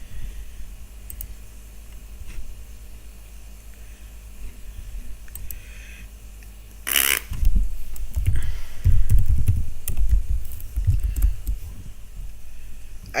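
Someone types on a computer keyboard during a casual evening livestream hangout, producing quick, irregular light clicks, joined later by louder knocks and bumps, with no talking.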